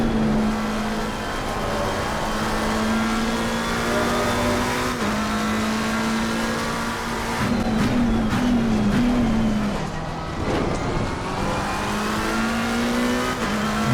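Race car engines roar in Assetto Corsa Competizione at the Zolder circuit, a steady high-pitched drone with shifting revs, brief downshifts and tire noise as several cars run close together.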